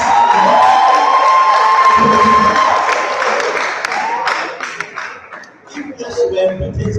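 An audience at a gathering applauding and cheering loudly, with dense sustained clapping and whooping that slowly tapers off, while voices and shouts carry through the crowd.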